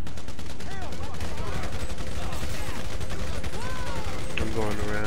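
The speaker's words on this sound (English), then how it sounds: "I'm just gonna start shooting my combat MG." A combat machine gun in a video game fires in continuous rapid bursts, loud and dense throughout, with other gunfire and clatter mixed in.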